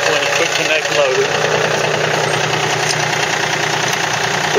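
A John Deere 4300 compact tractor fitted with a 420 quick-connect loader idles with a steady, close diesel rumble while someone talks over it.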